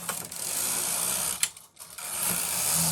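Knitmaster ES-302 automatic knitting machine working a plated fabric with blue yarn, its carriage giving a steady mechanical rattling whir close by that dips and pauses briefly midway before running on.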